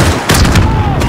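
Missile strike in the Call of Duty Modern Warfare campaign: a loud, dense barrage of booming blasts and gunfire, with a short radio-style voice partly buried under the explosions.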